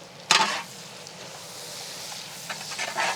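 Sliced onions tipped into a hot pan with salt, a sharp initial crackle followed by a steady soft sizzle and occasional stirring scrapes, close and without speech.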